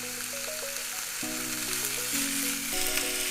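Pork belly sears in a pan with a soft, even sizzle, heard faintly beneath background music with a steady melody.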